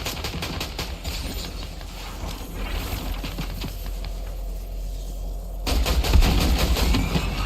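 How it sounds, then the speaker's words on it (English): Gunfire in the video game Fortnite, played live on PS5, a run of sharp repeated shots at a moderate distance over steady game background noise, louder near the end, with no one talking. "I hear shooting over here."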